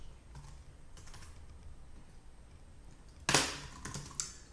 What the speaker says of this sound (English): I'll just type this.